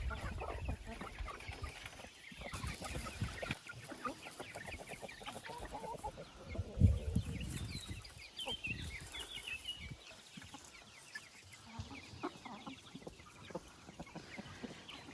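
Young chickens in large cages cluck steadily throughout, many birds at once in a busy, continuous chatter, moderately close with no talking.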